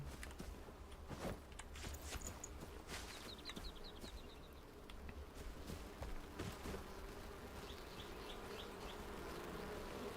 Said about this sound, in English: Those are level 9 bees.